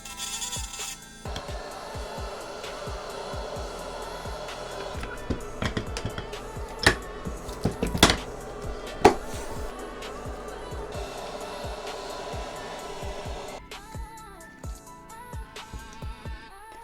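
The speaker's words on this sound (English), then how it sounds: "Okay, so now I'm switching to the bigger cutter." A larger cutting tool works on a frame during a repair, giving a steady whining buzz with scattered sharp clicks and scrapes in the middle. It cuts off abruptly near the end.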